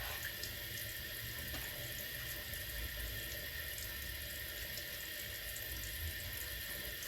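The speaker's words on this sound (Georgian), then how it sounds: "როგორ წყალი გადმოვიდა." Water from a tap runs steadily into a sink, a soft, even rush that holds for the whole stretch with no one talking.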